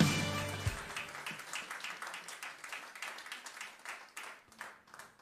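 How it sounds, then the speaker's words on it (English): Audience applause at an award ceremony, a burst of scattered clapping that stays fairly faint and thins out over a few seconds. "Let's give them a round of applause."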